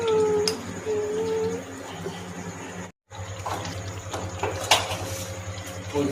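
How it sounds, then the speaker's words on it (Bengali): Dad cooking a dish in a home kitchen at night, with a steady hiss of food frying in a pan, a low hum, and a few sharp clinks of pots and utensils, mostly alone. "বাপি রান্না করছে।"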